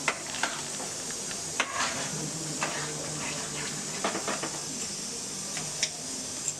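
Raw mango pulp being stirred as it cooks down for homemade aamsatta, a steady soft sizzle with scattered scraping clicks of the spoon against the pan, moderately close and without talk.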